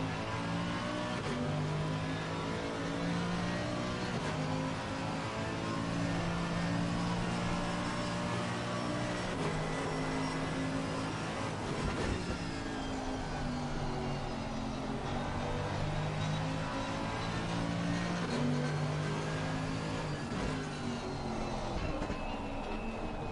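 GT3 race cars, Lamborghinis chasing a Ferrari, lap Zandvoort in the racing game Assetto Corsa Competizione, engines revving up and down through gear changes in a continuous loud drone, with commentary voices underneath.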